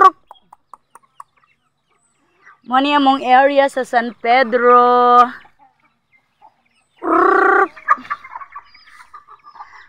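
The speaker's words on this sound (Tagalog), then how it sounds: "Okay, dagan akong manok o." Chickens cluck and squawk in loud bursts, a rooster among the fowl, with a pause between flurries; a person speaks over and between the calls.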